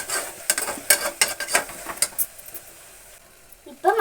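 A metal spoon stirs biryani masala in a pot, giving a run of irregular clinks and scrapes that thin out to a quiet pause before a final louder clatter.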